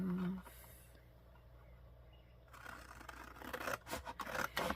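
Scissors cutting off the perforated paper section of a Peter Rabbit journal, a quiet lull giving way to close, uneven snips and paper rustling that grow louder toward the end.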